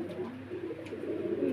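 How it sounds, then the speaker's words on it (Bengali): Two pigeons coo steadily and close, a low continuous burbling throughout with faint background noise. "এই হলো কবুতর দুইটা"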